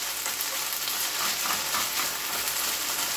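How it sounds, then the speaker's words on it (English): Shirataki pasta sizzles and fries steadily in a hot pan with garlic, a dense crackling hiss that stays loud and even throughout, with no talking over it. "so we got the sizzle going"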